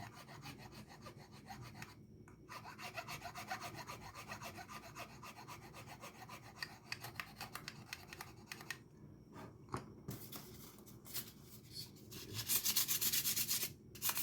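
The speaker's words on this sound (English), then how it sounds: "400 grit sandpaper, back and forth, round it, back and forth with the neck." Sandpaper of 400 grit rubbed back and forth along the edge of a composite guitar fingerboard, a steady close rasping scrape in repeated strokes that grows louder and brighter near the end, with no talking.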